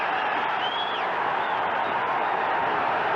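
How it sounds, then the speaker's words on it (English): A boxing arena crowd roars steadily after a knockdown in a 1990s George Foreman fight, a dense, sustained wash of cheering with no breaks. "And the crowd going wild."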